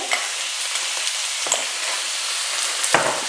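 Lumpia filling sizzles steadily in a hot pan while a spoon stirs it, with a few sharper scrapes and clicks of the utensil against the pan breaking through the constant hiss, close and moderately loud with no talking.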